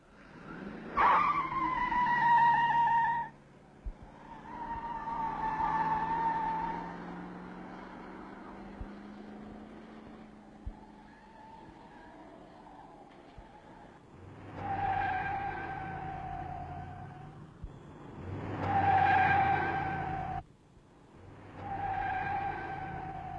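A 1966 Pontiac with the Sprint option accelerates hard, its tires squealing in long, loud skids while the engine revs rise and fall in several bursts, with no voices.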